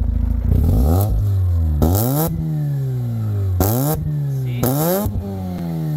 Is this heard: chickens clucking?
no